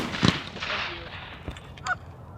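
Geese honking in a few loud, close calls over a noisy field during a waterfowl hunt with ducks nearby, alone without talk, a sharp burst early and another call near the end.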